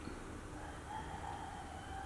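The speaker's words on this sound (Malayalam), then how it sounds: "നമ്മുടെ ചാത്തൻ കോഴി അവിടെ നിന്ന് കീഴുന്നുണ്ട്." A rooster crows faintly in the distance, its drawn-out call barely rising above a quiet background hiss.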